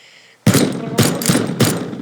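Three heavy booming artillery shots fire in succession in the video game Teardown, each a loud broadband blast with a rumbling tail, following a brief quiet lead-in.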